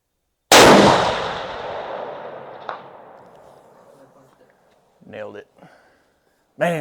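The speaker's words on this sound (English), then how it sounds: "Okay, firing." A Ruger Gen 2 rifle chambered in 7 PRC fires a single loud, sharp shot at an outdoor range, its report decaying slowly across the range, followed by brief voices talking afterward.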